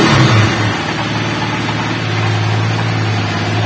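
A freshly overhauled Honda TMX 155 motorcycle engine runs loud and close, a steady low drone with a brief rev at the start before settling into an even, throbbing run.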